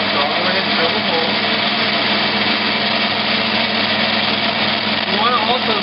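An electric drill bores a hole for a handle, its motor giving a steady, loud whine that holds evenly throughout, with a slight rise in strain near the end.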